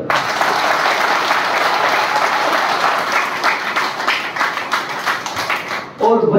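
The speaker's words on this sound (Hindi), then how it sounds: "एक बार अपने लिए तालियां बजाएं।" A large seminar audience at a motivational business event bursts into loud, dense applause that holds steady, then thins out and fades near the end before a voice briefly resumes.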